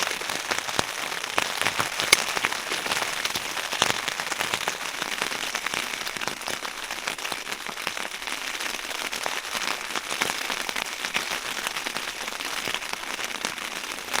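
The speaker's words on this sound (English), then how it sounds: "it should be picking up that rain on the tarp." Rain drums steadily on a tarp shelter in stormy weather, a dense, continuous patter with scattered sharper drop crackles, close and even throughout.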